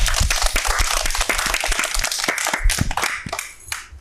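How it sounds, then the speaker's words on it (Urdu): A group of children claps and applauds together at the opening of a Pakistani youth programme, a dense, steady patter of many hands that carries on for about four seconds and fades slightly toward the end. "ان کی تالیوں کی گونج میں ہم نے کرنا ہے پروگرام کو"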